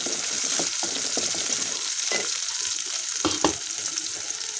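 Garlic and onions fry in a hot pan while being stirred. A steady loud sizzle runs throughout, with scraping spoon strokes against the pan at irregular intervals.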